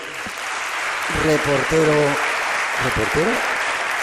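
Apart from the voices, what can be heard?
studio audience applause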